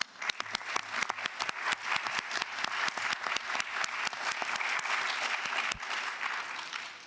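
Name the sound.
audience applause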